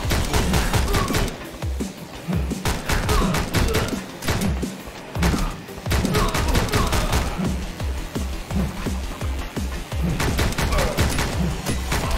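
Sustained automatic gunfire in the train-set action game Speed Limit, loud and close, coming in long rapid bursts separated by short pauses, with occasional thuds mixed in.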